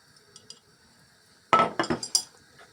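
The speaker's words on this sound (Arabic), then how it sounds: "راح نحركهم كلهم مع بعض." After a near-silent start, a metal spoon clinks and scrapes against a bowl while stirring garlic, salt and mint together, a short burst of several sharp taps and rattles close by.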